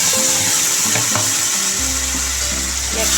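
Bengali spice paste for an egg, cauliflower and potato curry sizzles loudly in a frying pan, with a steady close hiss and bright crackle throughout, and a low hum underneath in the second half.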